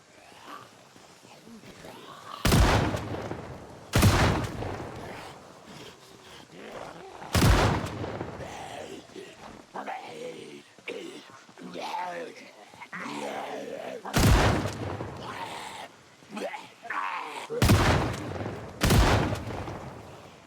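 Gunfire in the zombie survival game Project Zomboid: several loud, sharp shots spaced irregularly, some in quick pairs, between stretches of talking.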